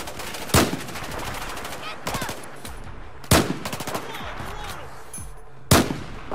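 Gunfire in the video game Battlefield 4, with rapid machine-gun bursts and several loud, sharp shots recurring over a few seconds amid other battle noise.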